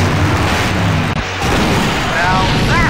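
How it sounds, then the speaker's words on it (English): Loud, dense booming explosion from the adventure video game Full Throttle, a sustained roar with crackling bursts filling the whole moment, with faint voice-like tones near the end. "Now that's an explosion, ladies and gentlemen."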